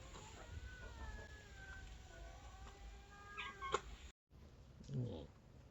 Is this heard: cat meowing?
yes